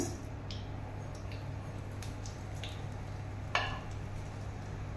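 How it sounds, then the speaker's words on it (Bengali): Panch phoron seeds sizzle steadily in hot oil, a constant soft frying hiss over a low hum, with a few light ticks and one brief clink of a utensil. "এই তেলের মধ্যে, গরম তেলের মধ্যে আমি দিচ্ছি 5 ফোড়ন"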